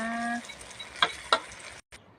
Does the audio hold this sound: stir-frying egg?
yes